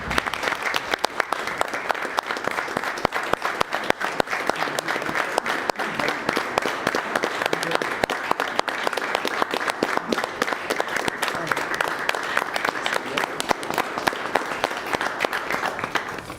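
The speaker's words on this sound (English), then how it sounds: "we want to give you that and a big round of applause" Sustained, dense applause fills a city commission meeting after a proclamation presentation, a steady crowd of clapping hands at even loudness with some voices mixed in.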